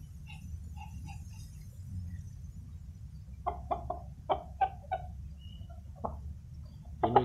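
A rooster with a hardened crop that refuses to go down clucks in a quiet setting: a burst of several short, close clucks in quick succession, then a pause and a couple more.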